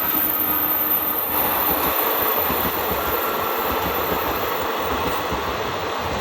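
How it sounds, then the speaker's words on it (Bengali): A train rumbles past nearby, a steady rolling roar of wheels and carriages with faint rhythmic clatter, no voices. "এই যে ট্রেন"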